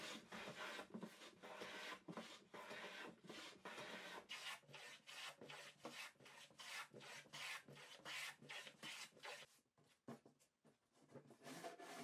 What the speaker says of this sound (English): use a plane to make everything flush